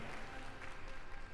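A crowd at the Kokugikan sumo arena applauding a popular bout win, a dense, steady wash of clapping that stays even throughout, heard somewhat distantly.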